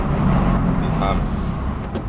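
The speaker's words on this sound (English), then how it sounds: "I don't even know if you can hear me over the car," A straight-piped BMW M4 rumbles with a heavy, low drone from close by while a voice talks over the engine noise.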